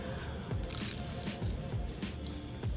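Someone bites into flaky, buttery homemade spanakopita, giving close crackly crunches and crumbling chews in a steady irregular rhythm, with faint voice traces in the background.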